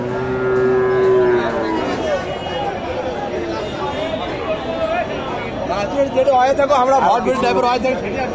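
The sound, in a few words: Friesian heifer cattle mooing at a cattle market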